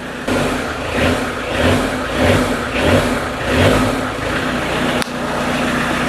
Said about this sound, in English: Alright, that's the engine running.